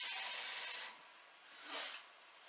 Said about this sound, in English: So that's a full cup of water going in there so that my greens are going to steam a little bit.